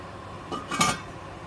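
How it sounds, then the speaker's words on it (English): A spoon stirring beef noodle soup in a cooking pot, with two brief scraping clinks of metal against the pot close by, set against quiet kitchen background hiss and no talking. "Give it a stir."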